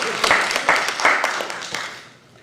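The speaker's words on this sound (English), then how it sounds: "I'm applauding for you." A meeting audience applauds in a loose burst of claps that builds briefly and then thins out and fades toward the end, moderately loud throughout.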